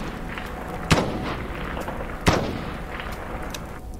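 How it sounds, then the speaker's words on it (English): Two sharp gunshots from an assault rifle, spaced about a second and a half apart, cracking out over a quiet outdoor background at moderate distance. "He immediately fired multiple shots at the creature"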